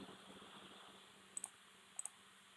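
A computer mouse gives two quick double clicks, faint and crisp against a quiet background.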